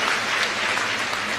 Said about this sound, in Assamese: এটা দীঘলীয়াকৈ হাত চাপৰি